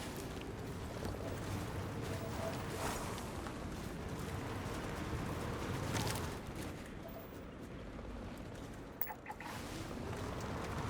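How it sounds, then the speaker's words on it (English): Dense, continuous rumbling din with scattered bursts and pops of gunfire in the video game Starfield, with a brief sharp crack near the end. "I hear gunfire."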